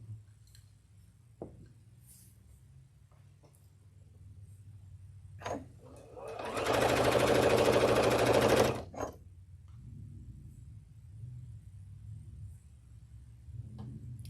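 A sewing machine stitches a pink quilt block in one loud burst of rapid, steady whirring lasting about two seconds, framed by quiet room hum and a few soft clicks before and after.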